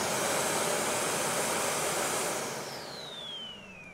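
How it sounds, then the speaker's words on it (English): A vacuum cleaner motor roars loudly and steadily, then its pitch drops as it starts winding down toward the end. "and now we can start the vacuum cleaner wireless transmission."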